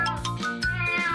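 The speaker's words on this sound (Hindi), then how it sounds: "चलो अभी बेघर बिल्लियों को खिलाते हैं।" Stray cats being fed meow repeatedly, several loud, close, overlapping tonal cries following one another in quick succession.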